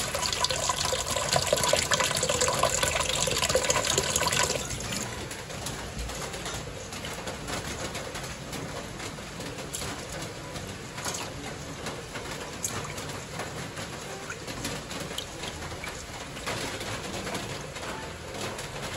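Continuous splashing and sloshing of water, louder at first and then settling into a softer, steady swishing and trickling as glutinous rice is rinsed by hand.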